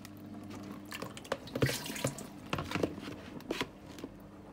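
Water drains from washed mint leaves sitting in a strainer, heard as a faint, close trickle with scattered soft drips and splashes.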